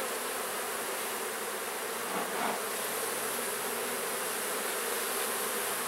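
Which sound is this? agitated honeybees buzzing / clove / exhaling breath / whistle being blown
agitated honeybees buzzing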